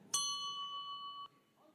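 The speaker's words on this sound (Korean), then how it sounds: "연설 시작과 함께 타종이 1회 울리고" A single clear electronic bell chime marks the start of a speech at a Korean political candidates' event, ringing out sharply and sustaining a bright tone for about a second before fading, with a faint room murmur afterward.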